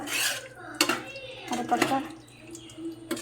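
A utensil scrapes and clinks against a pan while prawns are stirred for a Kerala-style prawn roast, with several sharp metallic knocks spread through the clip and a voice talking faintly in the background.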